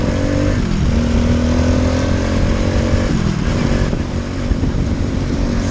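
Steady, loud engine drone of a Boomcat 125 motorcycle being ridden, with shifting pitch as the revs drop and climb through gear changes, continuous and close with no talking.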